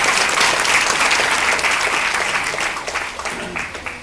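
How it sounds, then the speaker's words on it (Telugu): A large audience applauds loudly at a direct-selling business event, a dense, steady burst of many hands clapping that tapers off slightly near the end. "ఒకసారి జోరుగా క్లాప్స్ జోరుగా"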